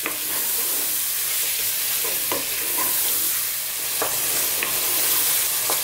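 Turmeric and coriander cook in a hot pan with a constant loud sizzle, broken by occasional spoon scrapes and taps as the spices are stirred.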